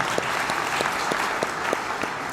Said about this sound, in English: Give Harsh a round of applause